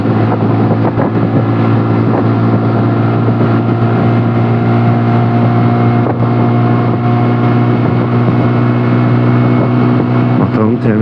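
A TVS Ntorq 125cc scooter at full throttle on the road near Burdur, its engine giving a steady loud hum with strong wind rush throughout.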